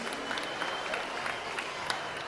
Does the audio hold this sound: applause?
yes